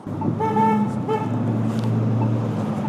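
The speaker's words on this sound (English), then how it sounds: "I wonder if these people who are honking" Car horns blare on a street, two tonal honks in quick succession over a low idling engine hum, followed by continuing traffic rumble.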